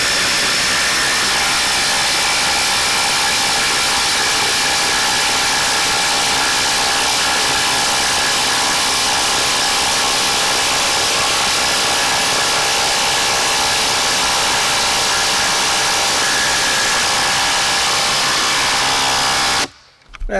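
RIDGID OCTANE and Makita LXT impact drivers driving lag screws, a continuous loud whirring hammer rattle that runs steadily for about twenty seconds before cutting off abruptly at the end.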